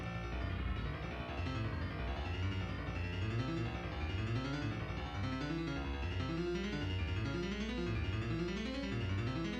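Sonified growth of a twig laying down new wood and widening, rendered as a dense, continuous musical texture of rising and falling pitched swoops layered over a steady low drone, loud and unbroken throughout with no voices.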